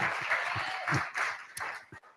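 Audience applause at an event welcoming a company CEO and founder, a soft, steady wash of many hands clapping heard from a distance, fairly quiet throughout.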